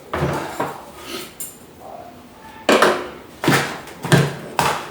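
Bonsai substrate and soil for a juniper procumbens cutting being scooped and handled in pots with a pasta spoon, a series of close, sharp scraping and knocking bursts with short pauses between them.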